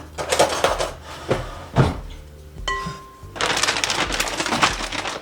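Several sharp snips and crinkly rustles as scissors cut the plastic packaging off a fish fillet, close up, with brief pauses between bursts of handling noise.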